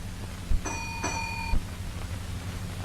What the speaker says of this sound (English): where their receipt is acknowledged by a reply gong